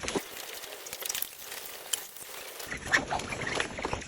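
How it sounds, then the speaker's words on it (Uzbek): A lame duck quacks in short nasal bursts, several calls close by over a rustling, noisy background, with no speech. "Mana o'rdak."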